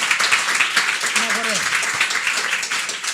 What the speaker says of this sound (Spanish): yo quiero pedir un nuevo aplauso para Maristela.